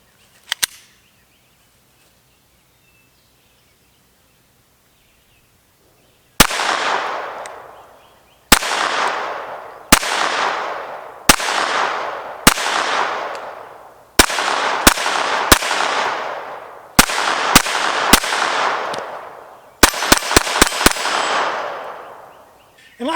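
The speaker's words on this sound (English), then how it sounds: "This will be with the Aguila Super Extra 40 grain solid nose. We're going to be shooting at the lower left hand target and then all the rest." A Taurus TX22 .22 LR pistol fires Aguila Super Extra 40 grain solid-nose rounds outdoors: about fifteen sharp cracks, spaced single shots at first, then faster pairs and a quick burst at the end.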